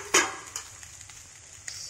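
Cooked rice lands in a hot frying pan and gets stirred, a sharp scrape and soft sizzle up front followed by a couple of lighter scraping touches, close and fairly quiet without speech.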